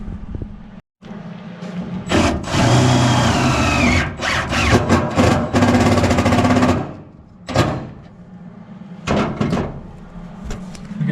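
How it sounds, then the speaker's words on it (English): A power drill whines in long bursts while driving screws into a car body panel during plug welding repair work, loud and close, with shorter stop-start runs and clunks toward the end. "So we're going to go ahead and run a screw in here"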